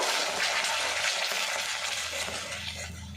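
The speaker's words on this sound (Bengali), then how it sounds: "মশলার সাথে বেশ কিছুক্ষণ নাড়াচাড়া করে নেব।" A paste of drumstick leaves, salt, sugar and spices is stirred in a hot pan, giving a continuous close sizzle with scraping strokes of the spoon that ease off slightly toward the end.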